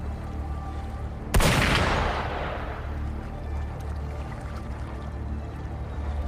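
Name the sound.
gunfire in the video game Wuthering Waves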